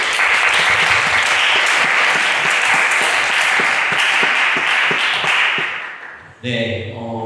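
A congregation at a Sunday church service breaks into loud, sustained applause lasting about six seconds, a dense wash of many hands, before it fades and a voice begins speaking.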